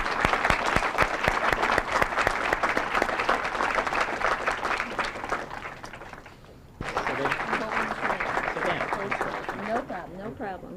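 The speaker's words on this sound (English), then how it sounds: "let's have a nice round of applause for everybody who's been involved with this project" A crowd at the dedication of a building complex applauds everyone involved in the project, with sharp individual claps over a steady mass of clapping. It dips briefly, then resumes as a voice begins speaking over the fading applause.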